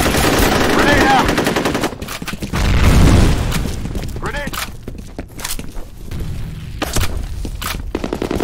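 In the FEAR multiplayer shooter, a grenade blast booms amid steady machine-gun bursts and rapid gunshots, loud and close, with a voice shouting over the combat noise.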